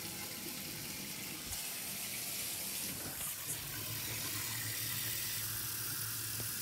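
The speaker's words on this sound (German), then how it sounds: "Da kann man einfach Wasser reinpumpen und dann blasst sich der Magen auf" Water runs steadily from a tap into a pig's stomach being rinsed and filled while making saumagen, a continuous close splashing rush that shifts slightly in tone partway through.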